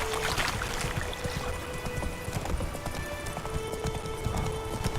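Roach the horse galloping in The Witcher 3, a steady drumming of hoofbeats with ambient outdoor game sound, no talk.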